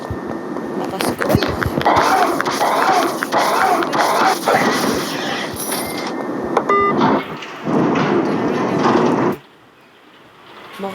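Rumbling thunder and a crackling lightning power effect in a Roblox game sound as a loud, dense burst that runs for several seconds, ending abruptly in near silence, while a player talks over it.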